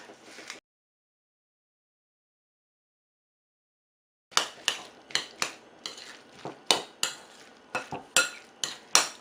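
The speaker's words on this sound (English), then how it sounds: "And we're just going to give that a good mix. Mix it all together." Spoon stirring vegan tuna sandwich filling in a bowl: a brief scrape, a pause of silence, then a steady run of close, moist scraping strokes against the bowl.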